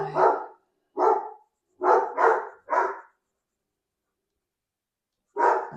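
A dog barks in short loud bursts, four or five quick barks in a row, then a pause before one more bark; no talking.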